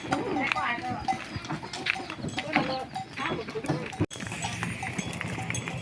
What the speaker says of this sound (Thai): ตอนนี้กะว่าเสียงกะไล่ควายไปปล่อยอยู่ส่วนหญ้าเนาะ